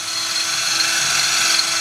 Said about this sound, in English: This is the worst drill in the world.